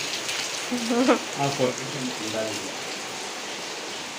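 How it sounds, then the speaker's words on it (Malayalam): Heavy evening rain falls around a house, with water pooling at the front and back. A steady, close hiss of downpour runs throughout, while a voice speaks briefly over it near the start. "അടിപൊളി മഴയാണ്"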